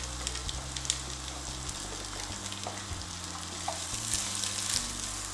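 Tropical curry ingredients fry in hot coconut oil, a steady close sizzle and crackle with occasional stirring scrapes, running continuously.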